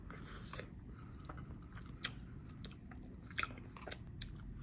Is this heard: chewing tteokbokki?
yes